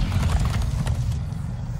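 Horses galloping in the Minecraft Story Mode video game, a steady rumbling clatter of hooves that runs close and loud throughout, with a brief whinny-like burst near the start.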